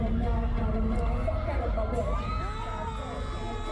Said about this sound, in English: You can hear me screaming because I wasn't expecting it.